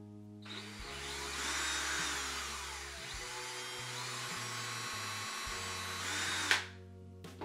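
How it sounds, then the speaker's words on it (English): A power drill whines at high speed for several seconds, pitch wavering as it bites into a plastic bottle cap, then winds down abruptly; no talking. "in the very center of this cap, you're going to want to drill a hole."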